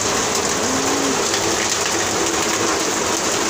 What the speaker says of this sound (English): And the rainy season has started, which is a good thing.